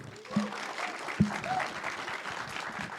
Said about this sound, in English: One more round of applause for Kyle